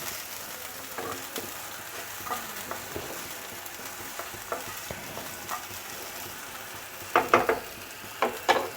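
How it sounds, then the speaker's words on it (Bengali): Continuous dry sizzling of rice frying in a pan with salt and turmeric, with occasional scraping stirs and a few louder clinks near the end. "চালটা ভাজা হচ্ছে খুব সুন্দর একটা"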